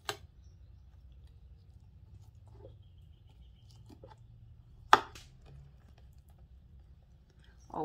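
A knife chopping the head off a mullet fish during cleaning, sharp isolated cuts against a board, one strong chop standing out among lighter taps over a low background hum.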